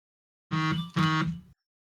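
Two loud electronic beeps from a phone in quick succession, each lasting about half a second, with nothing else around them.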